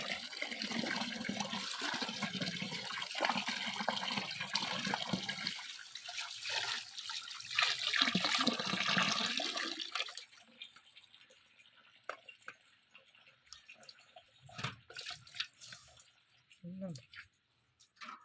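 Tap water gushes loudly over payar bean leaves being washed in a Kerala kitchen for a thoran. Then the flow stops, leaving quieter drips, splashes and handling noises.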